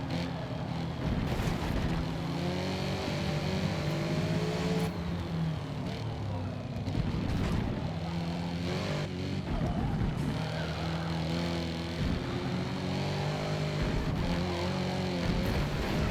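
A stock-engined HSV GTS four-door sedan in a racing video game revs hard and steadily throughout, its engine note climbing and dropping through gear changes in a continuous, loud drone.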